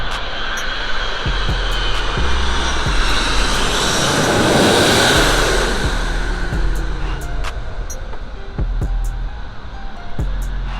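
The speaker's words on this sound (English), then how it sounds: "They're coming in smooth. That's a big" A large four-engine jet airliner roars overhead while landing at LAX, swelling to a loud, broad rushing peak in the middle before fading, with faint clicks and rustles nearby.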